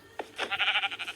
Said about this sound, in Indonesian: Dan di jalan aku ketemu dengan gerombolan domba.